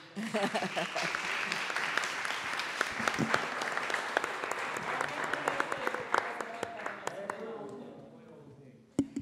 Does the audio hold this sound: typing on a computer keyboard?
no